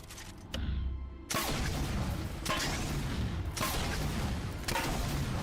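Halo 4 explosions: a short burst, then heavy broadband blasts hitting roughly once a second over a continuous low rumble, loud and close with no voices.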